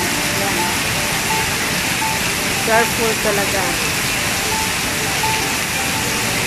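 Heavy rain pours steadily at the National Stadium in Singapore, a dense, loud hiss filling the whole stretch, with someone speaking briefly over it.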